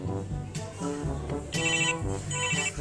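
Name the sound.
Barbie toy ringtone playing on a phone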